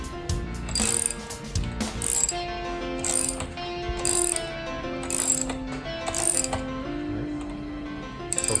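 A ratchet clicks in repeated bursts while tightening the front suspension fork on a ZERO 9 or 10 electric scooter, rhythmic metallic ratcheting close up with short pauses between strokes.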